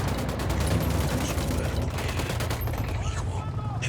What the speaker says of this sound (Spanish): Escuchando disparos.